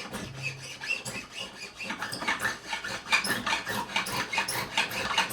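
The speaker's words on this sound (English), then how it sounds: "try and keep the file straight, and we're going to bevel all at the same angle" Steady rasping of a metal file beveling the fret ends on a 1976 CBS-era Fender Stratocaster, quick back-and-forth strokes repeating close up throughout with no talk.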